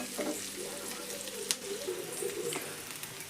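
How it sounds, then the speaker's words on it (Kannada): Potato palya ingredients fry in a little oil, giving a close, continuous sizzle with light stirring clicks. "ಈ ಥರ ಒಂದು ಸ್ವಲ್ಪ ಎಣ್ಣೆ ಒಳಗೆ ಫ್ರೈ ಮಾಡ್ಬೇಕ್ರಿ"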